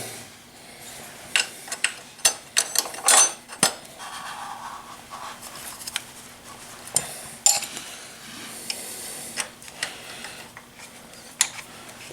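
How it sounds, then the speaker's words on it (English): Metal clicks and ratcheting taps from a 6mm Allen wrench working the bolts of a skid guard bash plate on a Honda Africa Twin CRF1000L motorcycle, sharp irregular ticks close by over a quiet background hum. "Now we'll be using the 6mm Allen wrench on this one."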